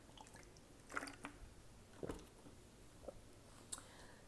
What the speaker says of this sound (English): let me take a drink of water